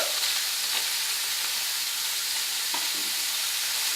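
Thin strips of sirloin steak fry in a hot pan for a stir fry, giving a steady, close, loud sizzle with faint stirring scrapes and no talking.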